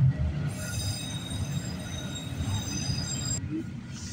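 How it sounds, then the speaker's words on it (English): A train passes at night at West Toronto, its rumble steady and close while a high, drawn-out wheel squeal rings over it before cutting off near the end. "After this train goes."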